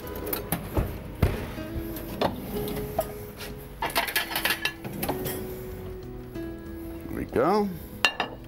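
Plates and cutlery clink and knock on a kitchen counter while a chef plates BBQ ribs, several sharp close clatters scattered through the clip, with someone talking briefly.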